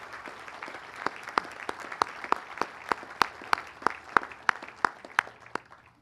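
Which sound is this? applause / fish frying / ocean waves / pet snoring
applause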